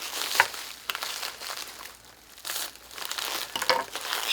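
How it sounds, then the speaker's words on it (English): Plastic wrap being crinkled and torn off an unboxed sword from Darksword Armory: close, continuous crumpling and crackling bursts with brief pauses, no talking. "so much plastic wrap."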